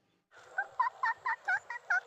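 A voice imitates a peacock call to attract the bird, repeating about seven loud, nasal, honking cries in a quick, steady rhythm close to the microphone.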